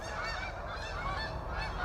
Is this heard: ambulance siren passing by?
no